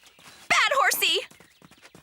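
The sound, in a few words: cartoon horse hooves clip-clopping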